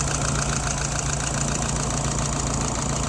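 A small engine idles steadily at about 700 RPM with a constant, even low rumble and a slight uneven knock in its rhythm, loud and close throughout with no talk.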